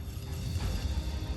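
Rapid mechanical clicking from a fishing reel as a large Idaho lake trout pulls line out, steady and close, running throughout with no voices.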